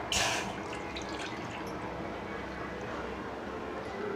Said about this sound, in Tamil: இப்போ வந்து நம்மளோட கேழ்வரகு பாலை வந்து ஊற்றிக்கலாம்.